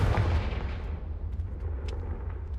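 A deep rumbling explosion from the Confringo blasting spell in Hogwarts Legacy, a heavy low boom that fades into a lingering roar with a few faint crackles.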